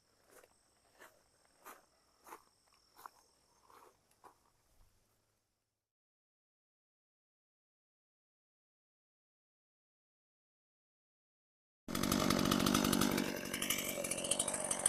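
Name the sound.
chainsaw engine running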